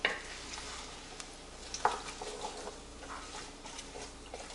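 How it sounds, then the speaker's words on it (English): Vegetables for minestrone soup sauteing in a pot, a quiet steady sizzle broken by a few light clinks and scrapes of stirring. "my veggies have been sauteing and cooking for about 15 to 20 minutes"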